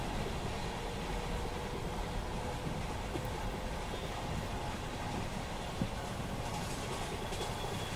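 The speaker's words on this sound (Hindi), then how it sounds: "हमारी गोरेगांव सीएसएमटी स्लो लोकल भी क्रॉस कर रही है" A Goregaon–CSMT slow local train crosses on a Mumbai suburban line, a continuous broad rumble and rush of wheels on rails with faint clatter, steady and fairly loud throughout with no voices.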